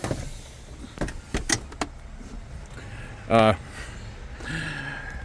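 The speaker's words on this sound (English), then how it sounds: "And I can close up this cabinet." A small cabinet door in a cramped living space inside a work truck is shut, giving a few light clicks and a soft latch thump close by, with a person speaking nearby.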